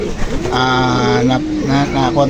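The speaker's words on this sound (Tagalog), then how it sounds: "magpapakain na po tayo ng ating mga kalapate" Racing pigeons coo steadily at close range while being fed, with deep rolling calls repeating in overlapping bursts under a nearby voice talking.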